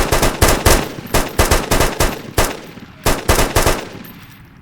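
Rapid bursts of gunfire in a video game aimed at a monster, about a dozen loud close shots in quick clusters with short gaps, then fading out at the end.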